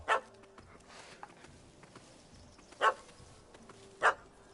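A puppy in The Witcher 3 video game gives three short, sharp barks spread across a few seconds, moderately loud above a quiet background.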